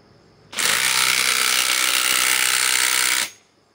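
A Ridgid R8721 right angle impact wrench runs loud and close in one steady burst of about three seconds, with a rapid hammering buzz that starts and stops abruptly.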